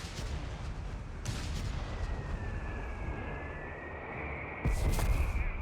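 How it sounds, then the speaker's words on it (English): Mortar fire in Company of Heroes 3 in a desert battle around a Crusader anti-aircraft tank: a low rumbling of distant explosions with a sharper burst near the start and a heavier blast toward the end, over a steady background of battle noise. "Bit more mortar fire here around the Crusader anti-aircraft tank"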